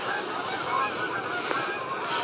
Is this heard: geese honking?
yes